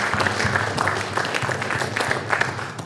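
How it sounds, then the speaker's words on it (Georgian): Applause from the audience at a Gama Revenant press conference, a dense patter of hand claps filling the room and holding steady for about three seconds without talk. "მოდი აპლოდისმენტები დაუკრათ"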